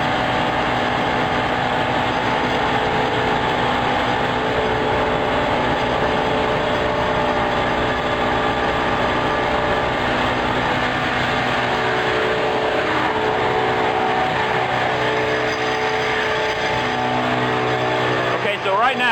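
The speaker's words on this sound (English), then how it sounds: "Okay, so right now, air is coming out of the blower" The blower on an unloading truck runs at high idle, a loud, constant mechanical drone with steady tonal hum that fills the entire span without letup.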